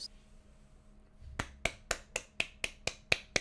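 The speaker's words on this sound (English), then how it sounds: "Golf clap" Golf clap from a single person, about nine soft, evenly spaced claps at a steady rhythm, close and crisp against a quiet background.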